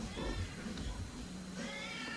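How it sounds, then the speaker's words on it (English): A pet cat meows indoors in a few short, close calls, the sound fairly loud against a steady room background with no talking. "My cat is trying to tell me something this morning."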